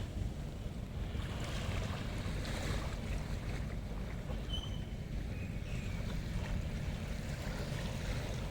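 Sea waves wash steadily onto a rocky beach at Subic Bay, a continuous loud rushing roar mixed with wind buffeting the microphone, and no voices.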